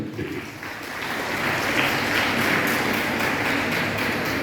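An audience applauds to welcome guests at a Karuna Charitable Society gathering, a steady, dense wash of clapping that swells slightly and holds for several seconds without a break.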